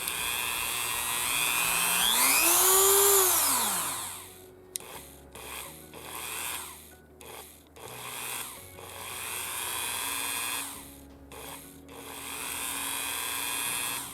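A variable speed Dremel rotary tool that struggles at its slowest setting whines up and then back down, followed by repeated short bursts of motor buzz starting and cutting out at different speeds, close by.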